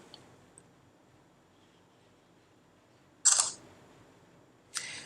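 The front camera of a Samsung Galaxy Grand Neo Plus phone takes a selfie, giving two crisp synthetic shutter clicks about a second and a half apart against near silence.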